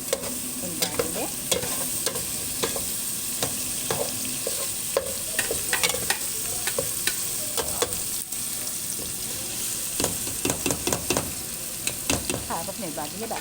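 Boiled fava beans are stirred in a frying pan with other ingredients, giving scraping, clinking stirring strokes over a steady sizzle, close up, with no speech.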